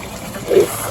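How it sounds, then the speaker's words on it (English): Lamb stew bubbling in a cooking pot, a soft liquid gurgle with one brief fuller bubble midway, close and quiet over a faint background hiss. "the stew is cooking and it's bubbling"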